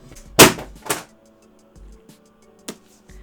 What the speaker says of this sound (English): That was the sound of two Morphe palettes falling on the ground.